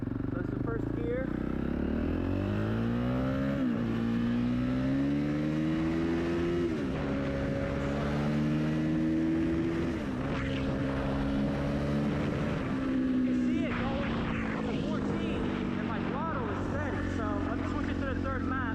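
A 2021 Honda CRF450RX dirt bike fitted with a Yoshimura exhaust revs in first gear, its loud nearby engine note climbing in pitch through several repeated pulls.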